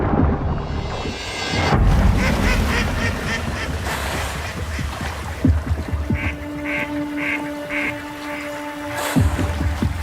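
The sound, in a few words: mallard ducks quacking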